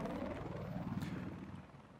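A helicopter in an 8v8 multiplayer war game match, a steady, dense rotor thrum with continuous chopping pulses, fairly close and constant throughout with no talk.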